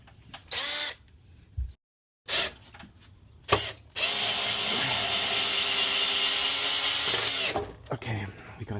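Power drill driving screws into a metal solar combiner box, a couple of short whirring bursts followed by a sustained run of about three and a half seconds, close and loud.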